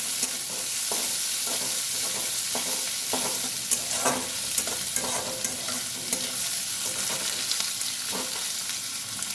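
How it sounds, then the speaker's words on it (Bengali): Chopped onions sizzle steadily in a hot pan while a utensil scrapes and stirs in a loose rhythm, close up, with no talking. "পেঁয়াজটা ভালো করে ভেজে নেব।"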